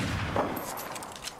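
Gunfire in the zombie survival game Unturned, a few sharp shot cracks in quick succession over a noisy background.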